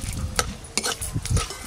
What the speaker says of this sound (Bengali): সরষের তেল, ফোড়নে দেব তেজপাতা, শুকনো লঙ্কা